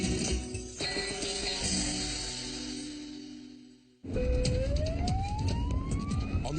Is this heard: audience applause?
no